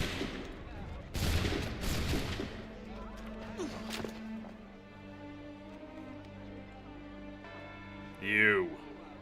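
Soldiers fire a musket volley in Assassin's Creed 3, sharp bursts of gunfire cracking in quick succession near the start, followed by lingering tones and a brief voice late on.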